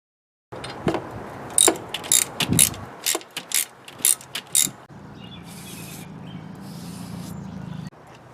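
A hand ratchet clicks in quick, loud bursts while bolting truck parts back together, then gives way to a softer, steady mechanical whir.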